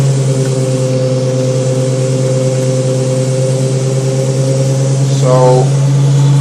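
An electric vehicle's ZF automatic gearbox runs in drive in first gear, giving a loud, steady tonal whine with a constant hum that holds throughout and shifts briefly near the end.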